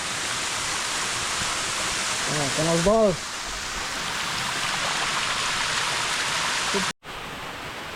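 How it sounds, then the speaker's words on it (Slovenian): A 30-metre waterfall pours into a pool, giving a loud, steady roar of rushing water that continues throughout, with a brief voice speaking over it partway through. "Ja, to pa kar 30 metrov visok slap."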